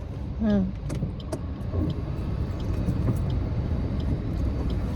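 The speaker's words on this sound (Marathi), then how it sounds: "चालू करी गाडी." A car engine cranks over with a rising whine, catches, and settles into a steady low idle rumble nearby.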